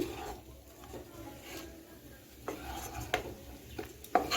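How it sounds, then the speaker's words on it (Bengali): A spoon scrapes and clinks against a pan while ghee is stirred into chire polao, a flattened-rice pulao. The contact sounds are soft and intermittent and rise into a few louder knocks near the end. "এখন আমি ঘিটাকে সব কিছুর সঙ্গে মিশিয়ে নিচ্ছি"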